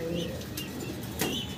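A male Dust Tumbler pigeon coos in soft, low, throaty phrases at a pigeon sale, close by, with some faint background noise and no talking.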